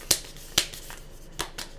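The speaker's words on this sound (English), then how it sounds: "This is from an 80 card crystal grid deck that I have. It's brand new, so bear with me as I shuffle." A brand-new, slippery 80-card crystal grid deck being shuffled by hand, giving four separate sharp riffling snaps spread over about two seconds, each quick and crisp, close up with no talking.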